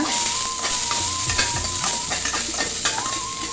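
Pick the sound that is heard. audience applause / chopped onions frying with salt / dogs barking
chopped onions frying with salt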